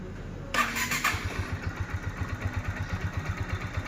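A 2016 Kawasaki Rouser NS150 motorcycle starts with a short starter whir, catches, and settles into a steady, even idle with regular pulses, close and fairly quiet, with no voices.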